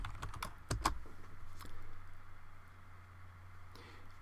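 Close, quiet typing on a computer keyboard, a quick cluster of crisp key clicks followed by a few sparse taps over a faint low hum.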